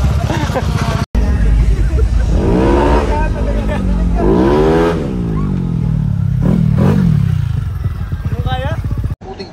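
A motorcycle engine revs repeatedly during wheelies at an RCB Day gathering, loud and close, with rising and falling surges while people talk in the background.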